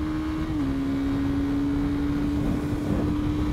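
2019 Honda CBR 300R 300cc motorcycle accelerating on the road, a steady whining engine tone that dips slightly then holds under constant wind and road roar, close and continuous.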